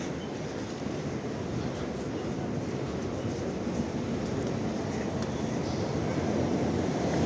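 A number 2 tram runs along a narrow old-town street in Lviv, near the Hlyniany Gate, with a steady, continuous rumble of wheels and motor that holds at an even level for several seconds and has no talk over it.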